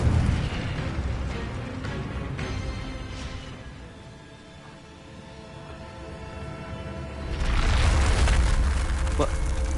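Incendio fire spell cast in the video game Hogwarts Legacy, a loud roaring burst that swells over several seconds, fades to a low rumble and then flares up again strongly near the end.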